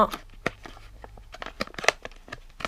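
Hand spinner packaging being unwrapped by hand: a string of brief crinkling, tearing and rustling bursts, close and moderately quiet, irregular in rhythm, with no talking.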